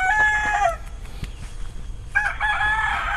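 A rooster with a pierced comb crows loudly and close by, twice. The first long cock-a-doodle-doo is followed by a short pause with faint background noise, then a second crow.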